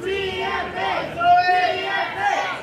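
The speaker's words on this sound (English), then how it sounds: "Still have a few people in the crowd cheering for Zoe" Crowd at an independent wrestling match cheers and shouts together in a steady, rising and falling roar of voices that stays loud throughout.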